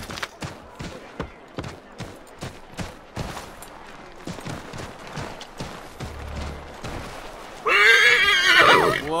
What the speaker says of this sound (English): So I'm gonna take this horse.